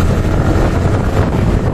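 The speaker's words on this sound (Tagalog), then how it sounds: "papakita ko sa inyo na live ang tunog ng hangin" Loud, continuous wind roars and buffets the microphone, a heavy low rumble that never lets up, in a cramped spot along Daang Hari road.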